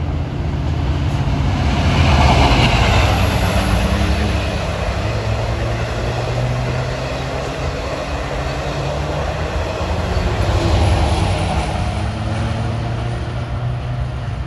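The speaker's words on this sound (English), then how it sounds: "609 coming west is train 8709 en route from Montauk to Jamaica. It's got an 8-car set with an engine on each end." Long Island Rail Road eight-car train with a dual-mode engine on each end passing by, a loud continuous rumble and rolling roar that swells and eases over its length, close at trackside.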